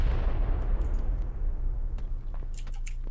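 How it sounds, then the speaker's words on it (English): Enemy gunfire in a battle royale video game, a dense rumbling burst at the start that fades into a few sharp distant shots and cracks, with no talking over it. "they're shooting at me now"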